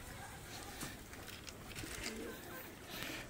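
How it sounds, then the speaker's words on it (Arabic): A stray pigeon near a pigeon loft coos faintly, its low calls half buried in steady outdoor noise throughout. "دي حمامة غربية كانت جاية على الحمام اللي عندنا"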